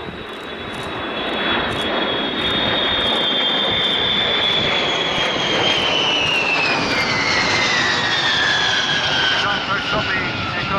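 Jet aircraft touching down on the runway at the RAF Fairford airshow, a loud steady roar with a whine that slowly falls in pitch and lasts throughout, with a commentator talking over it.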